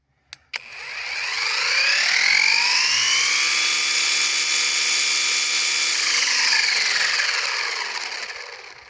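A Procraft ATA40 cordless grass trimmer clicks twice, then its electric motor whines up to a steady, high, loud hum, holds for several seconds and winds down at the end.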